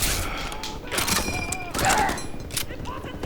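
Rapid machine gun fire rattles through a chaotic battle scene in a WWII Normandy landing video game, with continuous bursts, distant thuds and metallic tones layered together.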